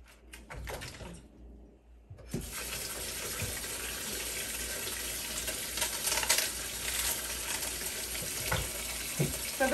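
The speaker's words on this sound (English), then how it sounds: "You want to wash the celery? All right, you wash the celery." Tap water runs over celery at a kitchen sink: a few faint clicks and handling sounds, then the stream starts and keeps up a steady, close splashing hiss to the end.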